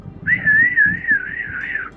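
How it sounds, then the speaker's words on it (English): A person whistles one wavering, sustained tone for about two seconds, loud and close, over low rumbling noise while riding an EX30 electric skateboard. "The whistling."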